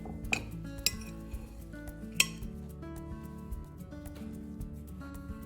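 Tabbouleh of quinoa and bulgur being stirred after orange juice is added: a utensil scrapes and clinks against a bowl in scattered taps, with a few sharper knocks standing out, close by over steady background music.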